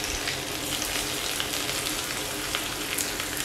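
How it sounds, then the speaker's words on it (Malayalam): Onion, garlic, dried red chillies and curry leaves sautéing in hot oil for kootu curry, a dense, even crackling sizzle close up, unbroken and with no talking. "എല്ലാം ചേർത്ത് നന്നായി വഴറ്റിയെടുക്കാം"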